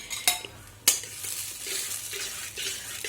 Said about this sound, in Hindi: इसे अच्छे से मिक्स कर लेते हैं